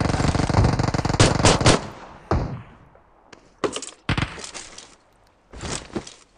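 Automatic gunfire from the mobile battle-royale game PUBG Mobile, firing in several loud bursts separated by short gaps, with a sharp single report and fading echoes between volleys.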